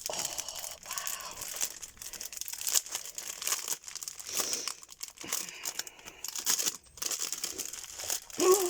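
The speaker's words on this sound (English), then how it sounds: "Oh, it is, it's tissue paper." Orange tissue paper crinkles and rustles continuously as it is unwrapped from a Secret Santa advent gift, close and fairly loud, with brief pauses and a louder crunch near the end; no one speaks over it.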